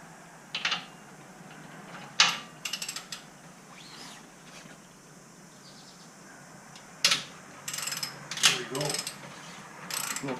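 A ratchet with a 9/16 deep well socket works a slip-on muffler bolt on a Road Glide motorcycle. Short bursts of quick metallic clicking come in several separate runs, with quiet pauses between them.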